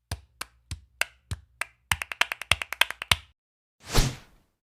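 Flamenco palmas for alegrías: crisp, close hand claps, first evenly spaced single beats, then a quicker accented rhythmic run, ending with a brief soft rustle after a pause.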